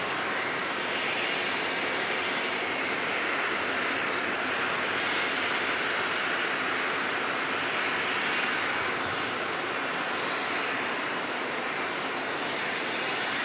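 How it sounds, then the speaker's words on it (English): A Southwest jet airliner taxis at Phoenix Sky Harbor airport after a flight from Dallas-Fort Worth. Its engines make a constant broadband roar that stays loud and even throughout. "Taxiing in this flight from Dallas, Fort Worth."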